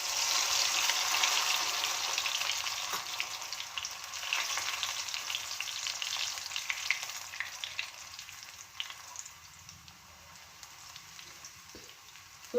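French fries fry in hot oil with a steady, close, bubbling sizzle that gradually softens, and no voices are heard.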